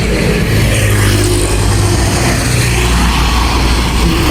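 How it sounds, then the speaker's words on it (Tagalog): Busy roadside traffic on a town street fills the air with a loud, continuous rumble of car engines passing close by, with no pauses. "Madaming sasakyan, maingay, ibang-iba sa bukid, no?"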